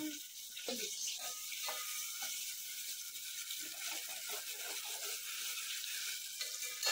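Oil heating in a pan for chicken, giving a faint, steady sizzling hiss that continues under a person talking nearby.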